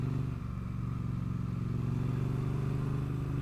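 A Triumph Street Twin motorcycle being ridden, its twin engine giving a steady, loud, low drone with a rhythmic pulsing note, heard from the rider's position with wind noise and no talking.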